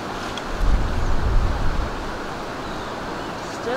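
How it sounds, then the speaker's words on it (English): Breezy outdoor wind gusts against a raised 41-inch windproof umbrella, a loud rushing buffeting in the first half that eases into a softer steady blow. "Still caught a little bit of the wind."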